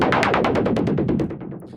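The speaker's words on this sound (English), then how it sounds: "that's how you create a noise percussion ARP thingy." Synthesized noise percussion arpeggio patch, heavily filtered: a rapid, steady run of about fourteen bright noisy hits with sweeping tone, loud and alone, ending in a softer tail.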